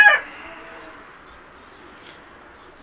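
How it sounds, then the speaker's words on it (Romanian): Hamburg chickens and a rooster give a short loud call at the start, then fade into quiet room ambience for the remaining seconds, nearby and alone with no talk. "Este vorba de 2 găini și un cocoș de Hamburg."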